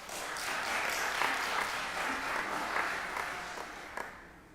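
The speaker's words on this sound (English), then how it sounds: "Give her a round of applause" Sustained applause from an audience at the 6th annual Malcolm X Symposium panel, a dense steady wash of many hands clapping at moderate level that thins slightly toward the end.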